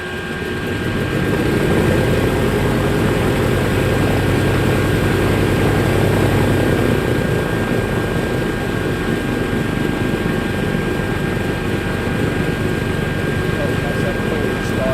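A Cessna Skymaster's propeller engine runs in a loud, steady rumbling roar that builds after a moment and holds for the rest of the run.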